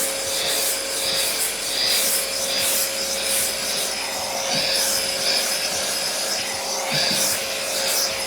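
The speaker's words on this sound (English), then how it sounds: "just give that another very light rub up to the line" Steady, light hand rubbing with an abrasive on a bare metal body panel of a Ford Falcon, a continuous close scraping hiss with soft rhythmic strokes and a faint constant hum behind it, no talking.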